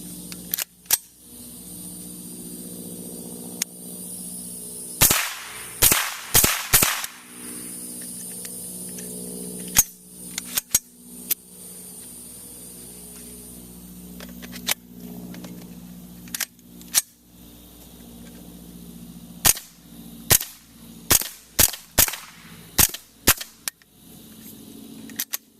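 Suppressed rifle firing supersonic CCI Mini Mag rounds through an AAC Element 2 suppressor: sharp, close cracks spaced irregularly, some in quick pairs and clusters, over a quiet background.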